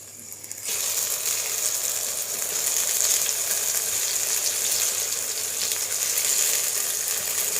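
Eggplant slices for begun bhaja frying in a pan after being flipped, a loud, steady, hissing sizzle that swells up after a brief quieter start and holds throughout.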